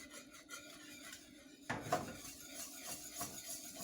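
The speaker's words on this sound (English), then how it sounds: "so just gonna keep whisking this" A whisk scraping and stirring a thickening bechamel cheese sauce in a pot, quiet rubbing strokes with a few louder metallic scrapes against the pot, close up and without talk.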